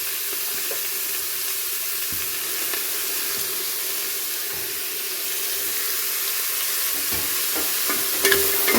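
Carrot, onion, tomato, green chilli, crushed ginger and garlic sauté together in a pan, an even close hiss of frying with a few stirring knocks near the end and no speech.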